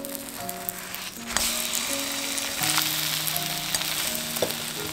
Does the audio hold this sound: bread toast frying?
yes